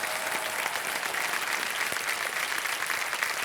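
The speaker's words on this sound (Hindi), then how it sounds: "एक बार जोरदार तालियां बज जाए इनके लिए।" A studio audience on a television quiz show applauds steadily, a dense wash of clapping that holds at an even level from start to finish.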